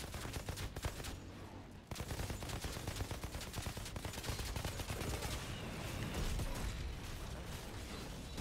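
Dense, continuous gunfire from the video game Outriders, rapid bursts of shots running nearly unbroken with mechanical clatter mixed in, loud and close throughout.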